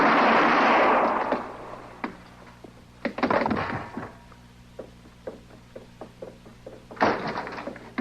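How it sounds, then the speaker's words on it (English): Gunshots in a Gunsmoke radio drama western, a loud blast opening the scene followed by further sharp reports around three seconds and near the end, with sparse clicks and movement between and no talk. "Mr. Dillon, I heard them shots"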